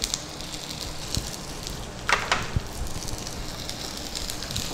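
Onion tempering in hot oil gives a soft, steady crackling hiss with a few sharper pops, close and moderately quiet throughout.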